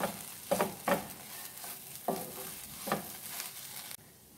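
Mughlai paratha stuffing is stirred in a pan over gas heat, a spatula scraping and scooping in several soft repeated strokes over a low, steady sizzle, close up with no talking.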